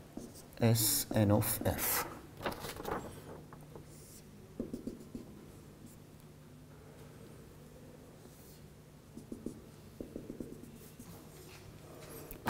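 Pen or marker scratching out a diagram during a signals and systems lecture, with brief bursts of writing strokes and faint taps, the lecturer speaking briefly at the start.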